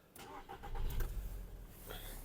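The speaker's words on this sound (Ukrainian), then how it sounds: "Автомобіль завівся з півтику, не димить, не троїть, не сапунить." A 2008 Volkswagen Golf Plus with a 1.6 MPI petrol engine cranks briefly and fires up, settling into a steady close idle without any talk over it.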